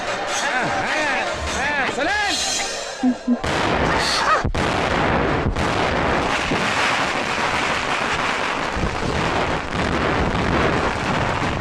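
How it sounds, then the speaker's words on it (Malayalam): Voices are heard, then a loud gunshot bang erupts, followed by another sharp crack over a rough, noisy rumble. "പേടിക്കണ്ട, മുതലാളി വെടിവെച്ചതാണ്. പടക്കം പടക്കം."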